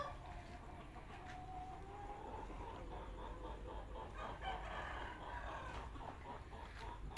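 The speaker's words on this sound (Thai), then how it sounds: "หน้าฟาร์มไก่ชนที่ใหญ่ที่สุดในจังหวัดปทุมธานี" A fighting rooster crows faintly at a distance over a noisy background at a large gamecock farm in Pathum Thani, Thailand, with occasional clucking from other fowl.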